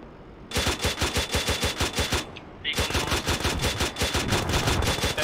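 Sustained automatic gunfire from the ARMA 3 military game during a mechanized operation, loud and rapid with dense repeating bursts, a brief pause midway, then continuous firing resumes.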